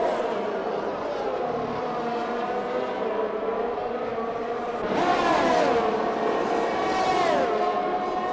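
Racing car engines in an F1 video game at the Bahrain Grand Prix, a steady droning roar with rising and falling pitch as cars accelerate down the straights, growing louder near the end.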